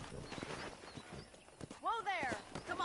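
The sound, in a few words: horse hooves clip-clopping in video game Red Dead Redemption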